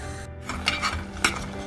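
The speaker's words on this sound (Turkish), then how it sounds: "2 kilo kapya biber için yarım çay bardağı zeytinyağı ilave ediyorum ve bununla tenceremin altını yaktım ve kaynatmaya başladım" Red peppers with olive oil cooking in a pot on the stove, with metallic clinks of pot and utensil and a soft sizzling bubble beneath, a couple of sharper knocks standing out.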